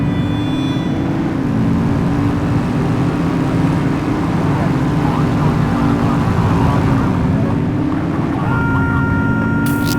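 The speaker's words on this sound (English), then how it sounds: "Get behind them and flip the siren to make them pull over" A police car siren wails in The Precinct video game. The steady, rising and falling tone runs continuously over loud engine and road rumble, close and prominent throughout.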